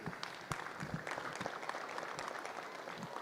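An audience in the arena at a junior market steer show at the Cattlemen's Congress gives a round of applause, a soft, continuous patter of many hands heard at some distance.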